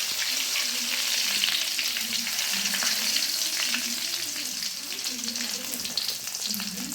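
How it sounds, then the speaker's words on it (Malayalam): Fenugreek seeds and curry leaves fry in hot oil with a dense, continuous loud sizzle and crackle close by, with occasional stirring and no talking. "അതൊന്ന് പൊട്ടട്ടെ. 2-3 ഉലുവ ഇട്ടു. അതിലേക്ക് വേപ്പിലിട്ട്"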